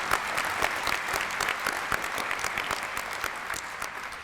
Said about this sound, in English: That's a good applause line.